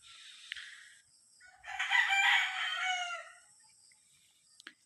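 An eight-month-old White Kelso gamefowl rooster gives one clear crow, loud and near, lasting about a second and a half, with quieter clucks and rustles around it.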